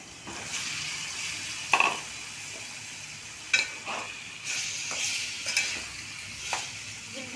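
Chicken going into a pan of cooked masala for a home-style chicken curry, a soft ongoing sizzle broken by a few sharp clinks and scrapes of a spoon against the pan.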